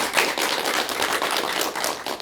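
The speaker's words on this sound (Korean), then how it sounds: "여러분 박수 부탁드릴게요." Applause from an audience at a Buddhist psychology talk, a dense steady patter of many hands clapping at once, fairly loud and continuous with no voices on top.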